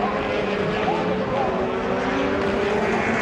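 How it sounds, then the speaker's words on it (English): Rally race cars at a Global Rallycross event in Texas, including a blue Ford, roar with a steady, loud engine drone under a commentator's continuous talk. "now he's sitting watching his teammate chasing down the Finn, Marcus Grunholm, in that blue Ford"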